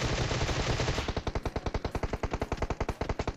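Rapid automatic gunfire in a video game, a dense burst giving way to a steady stream of evenly spaced, sharp shots close up and loud, with no talking.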